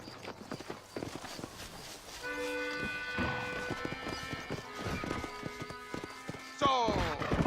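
A horse's hooves clip-clop rhythmically in Red Dead Redemption on Xbox 360, with a whinny near the end and a musical score playing underneath.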